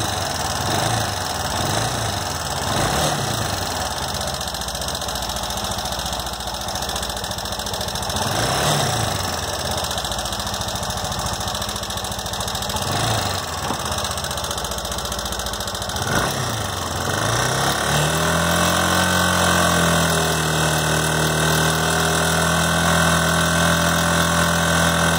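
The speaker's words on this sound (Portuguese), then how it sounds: "Vou acelerar um pouco, acelerar." A car engine idles, then gets revved several times in rhythmic swells while its charging system and voltage regulator are tested, before settling into a steadier higher hum; close, loud and without talk.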